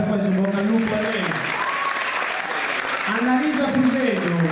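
A school concert audience applauds steadily while a voice speaks over the clapping.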